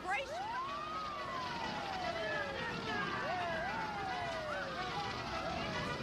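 Emergency vehicle siren wailing in sweeping rising and falling glides, repeating several times over a steady background of traffic-like noise.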